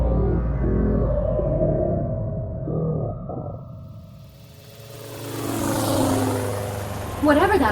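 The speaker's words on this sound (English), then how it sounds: "Whatever that plane is, it's heading right for us." Propeller airplane approaching in an audio drama, a low engine drone that swells as it nears, with voices and other dramatic effects layered over it.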